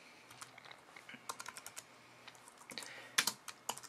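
Fast typing on a computer keyboard while entering code for an iPhone SDK scroll view tutorial; irregular bursts of light key clicks with a few louder strikes, close and alone with no talking.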